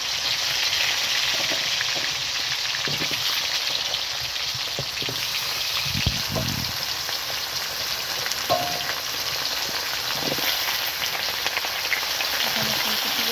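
Potatoes sizzle in hot oil with cumin seeds, a steady crackling hiss like rain throughout, with occasional louder spatters and soft stirring knocks, close and fairly quiet.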